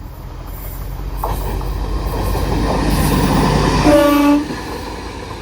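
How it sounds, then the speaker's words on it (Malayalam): An Indian Railways self-propelled inspection car rumbles past steadily at Munroe Island station, Kerala, with rising clatter, ending in a brief high-pitched horn or wheel squeal near the end. "ഇപ്പോൾ ഒരു കുട്ടി സാധനം പോയില്ല, അതിൻ്റെ പേര് സെൽഫ് പ്രൊപ്പൽഡ് ഇൻസ്പെക്ഷൻ കാർ എന്നാണ്."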